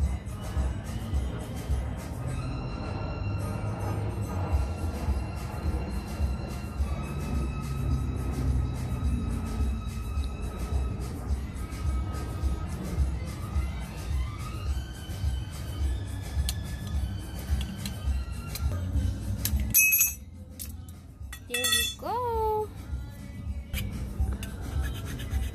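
A pipe is cut with steady, rhythmic rasping strokes for most of the stretch. The cutting gives way near the end to sharper clinks and scrapes.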